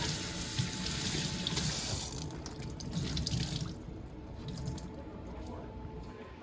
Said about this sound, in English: we're just going to get our sponge nice and wet